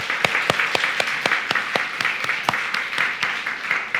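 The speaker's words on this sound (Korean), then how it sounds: "지금도 열심히 이렇게 헌신하고 있는 교사들을 위해서 우리 박수로 한번 축복하겠습니다" Church congregation clapping in honor of its teachers: a steady, fairly even beat of claps over a continuous bed of scattered applause, moderately loud, with no speech.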